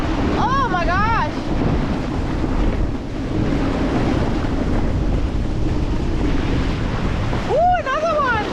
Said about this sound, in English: Big wave coming up.